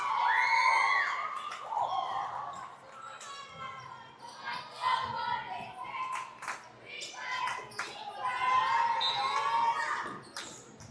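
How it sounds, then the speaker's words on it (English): Girls on the sideline of a high school volleyball match cheer and shout loudly in bursts, with claps and ball bounces echoing through a gym between swells of youthful voices. "Girls on the sideline cheering loud."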